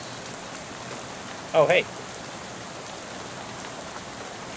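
Steady rain falls evenly in the game Shadows Over Loathing, a constant soft hiss of drops on a surface, interrupted once by a short spoken exclamation.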